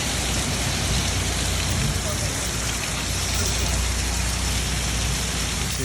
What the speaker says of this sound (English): We've got storms and rain, my goodness.